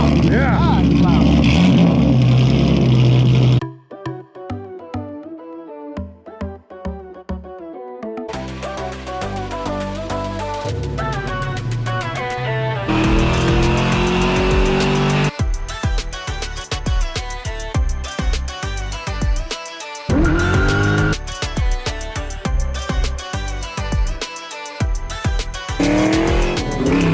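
A 1982 Ford Mustang GT Fox Body T-top with a swapped Coyote engine revs loudly in repeated bursts, with choppy gaps of near silence and brief clattering between pulls.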